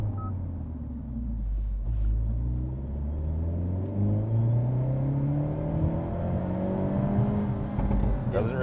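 A 2024 Hyundai Elantra N in sporty drive mode, its engine droning and rising steadily in pitch as it revs, heard from inside the cabin with a constant low rumble and no talk.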